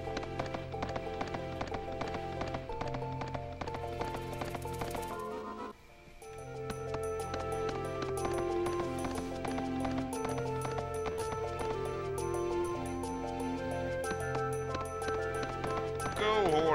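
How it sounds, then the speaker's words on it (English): A horse gallops in the video game Suikoden 3, a steady rhythmic clip-clop set over constant game music, briefly dropping out mid-way before the galloping and music resume. "Go, horsey, go!"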